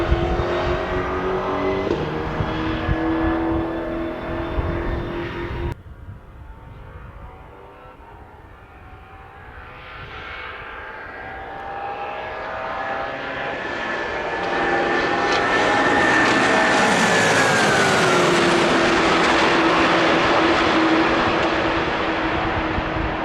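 Lexus twin-turbo V8 of a prototype LC F, a car climbing through revs, dropping back, then building again into a loud sustained high-pitched engine note that sweeps down as it passes.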